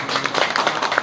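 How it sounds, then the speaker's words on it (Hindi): Audience claps at the opening of a district legal services mediation awareness event in Samastipur, a brief, fairly faint burst of scattered hand claps. "एक जोरदार ताली"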